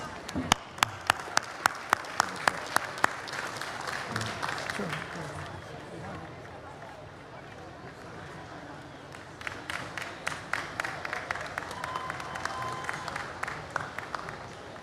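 A festival crowd applauds for Ramnath Kovind, former President of India, at the World Culture Festival, with scattered sharp claps, a dip into quieter murmur in the middle, and a rhythmic clapping burst returning near the end, heard from a distance.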